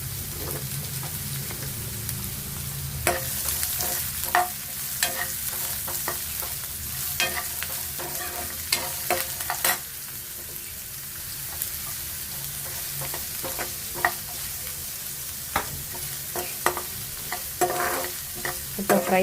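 Two small onions sizzle in a pan for homemade masala puri, a steady crackling fry broken up by frequent sharp clinks and scrapes of a spoon stirring, close and fairly loud, with no voices.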